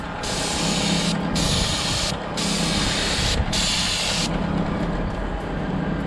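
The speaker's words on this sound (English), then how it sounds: "I'm just going to show you a little bit of how we spray these buildings." Graco 495 airless sprayer laying roof coating on a commercial building, a loud steady hiss of spray in long bursts separated by brief pauses, with a low pump drone running underneath.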